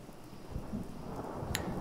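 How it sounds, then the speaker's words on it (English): Steady rain and wind fill a Fallout 4 coastal scene by the sea and shore, a continuous moderate wash of patter with low rumbling gusts and one brief brighter splash near the end, no voices. "just the rain and the wind, the sea and the shore."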